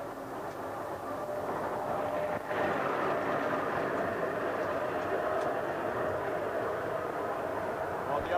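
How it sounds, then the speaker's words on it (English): Diesel locomotive number 9 rolling down a mountain rack railway toward a station loop, a steady, loud, continuous engine drone and rumble of the train, close by and unchanging, with someone talking over it. "Diesel number 9, descending to Clogwin, must pass the station loop"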